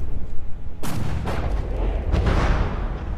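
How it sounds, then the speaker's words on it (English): Explosions and gunfire from tank battles in the game From the Depths, several heavy booming blasts over a constant rumbling din of distant fire, loud and dense, with no talking. "Big explosion here. I think we might lose a Crusader tank."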